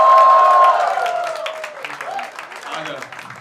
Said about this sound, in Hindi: वो तो जोरदार तालियां मैं चाहूंगा बजानी शुरू करें।